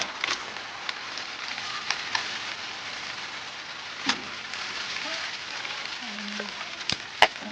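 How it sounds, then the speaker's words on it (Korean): Breaded pork cutlet deep-frying in oil at a rainy car-camping site. A soft, even crackle runs throughout at low level, broken by a few faint clicks and one sharp tap. "돈가스도 튀겨 먹을게요"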